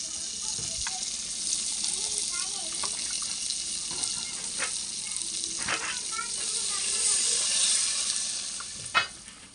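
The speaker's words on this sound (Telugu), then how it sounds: "నాలుగు గ్లాసులు అయితే వాటర్ పోస్తున్నా" Water pours steadily into a pot for village-style bagara rice, a continuous rushing hiss over other kitchen noise, ending with a brief clatter.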